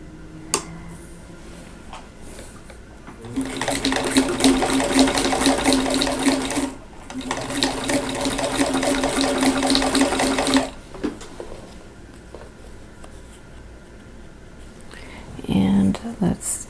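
A sewing machine chain-stitching quilt block pieces runs in two long, steady bursts of fast, close whirring, with a short pause between them and quiet handling noises and a brief voice near the end.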